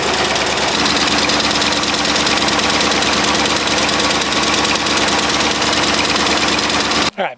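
A 1971 Ford F-250 Camper Special truck engine runs loud and steady at idle with a rough, knocking rumble, close up and continuous before cutting off abruptly at the end.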